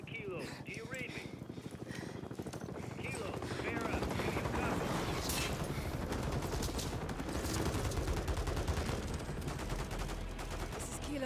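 Sustained gunfire rattles through a Call of Duty: Modern Warfare 3 battle in the Precious Cargo mission. Dense, overlapping bursts sound from several directions, with loud machine-gun fire continuing under clipped radio voices.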